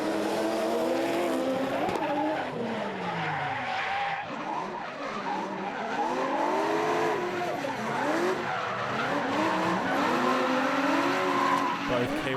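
Tyres squeal and screech continuously as a race car slides and spins out, wavering pitches over a roaring engine, with a commentator talking throughout.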